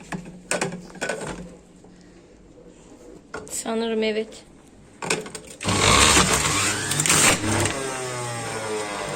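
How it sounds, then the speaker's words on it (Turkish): An electric juicer squeezing fruit juice in a home kitchen whirs loudly in the second half, a steady motor grind that starts abruptly, preceded by clicks and handling noises with people talking. "meyve suyu sıkıyoruz şu an. Bu bayağı bir ses çıkarır ama şimdi."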